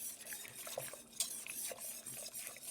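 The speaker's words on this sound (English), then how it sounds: "A little bit at a time, whisk it in so you don't get any lumps." A whisk works thickener into simmering pot roast gravy in a pot, a little at a time: soft, quick metallic scrapes and light clinks over faint bubbling, quiet and close.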